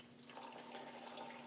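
Water runs steadily out of an aquaponic grow bed filled with hydroton clay pebbles and pea gravel, a soft continuous trickle and splash through a small cloth filter, faint and even throughout.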